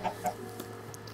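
A chicken in the Minecraft video game gives a few short clucks, two sharper ones at the start and softer ones after, over a low steady background hum.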